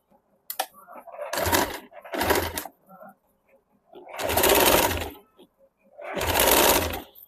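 A sewing machine stitches lace onto a suit with golden thread in four separate bursts of rapid mechanical whirring, close and clear, with short quiet gaps between the runs.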